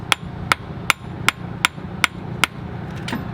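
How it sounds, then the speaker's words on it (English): Seven sharp, evenly spaced metallic taps from a hammer seating a clip on a car axle ring out close by at a steady rhythm, followed by a softer shuffling sound. "slide it in the hole so it's snug and tap it with a hammer"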